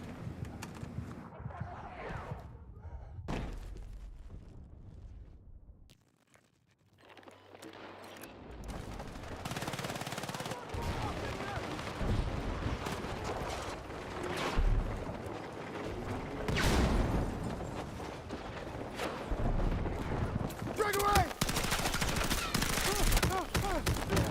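An automated turret in the shooter game Battlefield 6 lets off bursts of rapid mechanical gunfire, with clattering rattles and ratcheting clanks that are loud and close, and repeat through the stretch without any talking.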